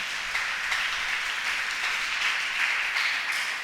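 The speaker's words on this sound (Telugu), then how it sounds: "చప్పట్లు కొట్టి దేవుని నామాన్ని మహింపరుద్దాం" A church congregation claps together in praise during a worship service, an even wash of clapping that holds steady throughout.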